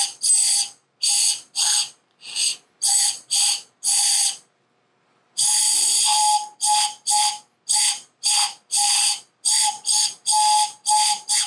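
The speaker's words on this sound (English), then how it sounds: "So that's how you make a pan flute" A pan flute made from drinking straws is blown in a run of short, breathy whistled notes at shifting pitches, close and loud, with a brief pause partway through.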